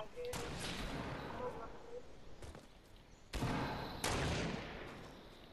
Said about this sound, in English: Shooting nearby.